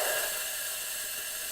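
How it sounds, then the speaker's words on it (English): A home espresso machine's steam wand purges with a steady, close hiss of escaping steam that holds constant throughout. "So let me just purge this wand a little bit."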